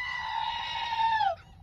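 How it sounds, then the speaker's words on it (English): A screaming goat sound effect: one loud, sustained, harsh bleating scream lasting over a second, ending in a falling pitch glide, heard alone without talk. "Screaming goat for Matt."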